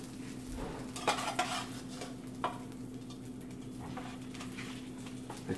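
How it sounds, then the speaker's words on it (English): A cooked omelet scraped from a frying pan onto a plate after the stove is turned off, with a few sharp utensil clacks against the pan over a low steady hum, close and fairly quiet. "I'm gonna put it on the plate"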